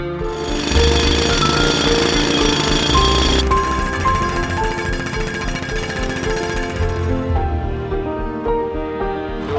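A rock drill bores blast holes into rock for dynamite, hammering rapidly and loudly, a continuous pounding rattle close by that eases off slightly toward the end.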